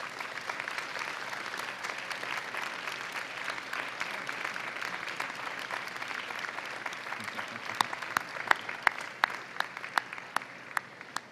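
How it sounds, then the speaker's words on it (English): A convocation audience at a university graduation applauds families and friends, a broad, distant-sounding wash of clapping that thins toward the end into a few sharper, isolated claps. "give them a round of applause for the love and support that made this day possible"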